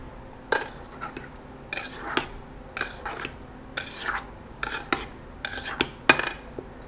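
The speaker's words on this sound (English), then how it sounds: "Give this a gentle mix." A spoon gently mixing grilled peach salsa with onion and cilantro in a bowl, giving soft scrapes and light clinks against the dish in an irregular rhythm, close by and without speech.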